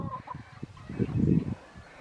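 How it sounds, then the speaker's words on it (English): Chickens cluck close by in short, irregular bursts, swelling louder for a moment midway before quieting. "Say hi to chickens."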